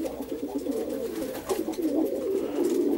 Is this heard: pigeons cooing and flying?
yes